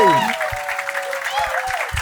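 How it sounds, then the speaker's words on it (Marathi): Audience applause for the winner of a Marathi comedy show, a short burst of clapping mixed with voices and cheering. "एकदा जोरदार टाळ्या पायल माझ्यासाठी"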